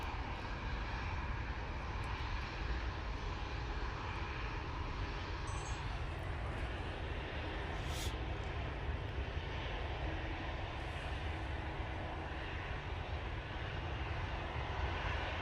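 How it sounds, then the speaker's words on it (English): An Aer Lingus airliner departs Manchester Airport on a windy day, giving a faint, steady engine rumble with no clear rise or fall, alone without voices. "Aer Lingus A380 going back to Dublin"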